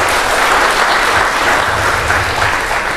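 An audience at a panel forum with Tun Dr Mahathir gives loud, dense, sustained applause that holds steady for the full few seconds.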